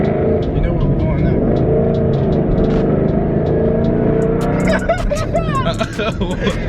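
A 1000+ hp twin-turbo Mustang GT accelerating hard on a highway, a loud, continuous engine roar heard from inside the car, with people talking over it.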